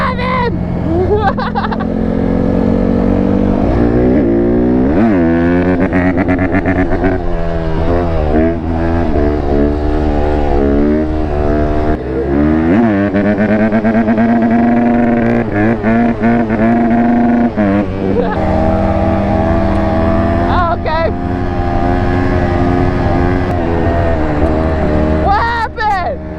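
Two-stroke Yamaha Banshee race quad engine revving loud and close, its pitch sweeping up and down in repeated rising and falling runs, with excited voices shouting over it.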